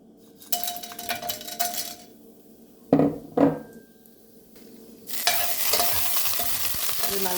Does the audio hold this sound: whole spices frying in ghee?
yes